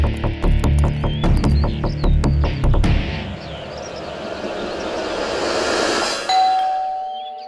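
Several bright doorbell chimes ring out in quick succession, then fade into a low rumbling hum and a thin sustained tone.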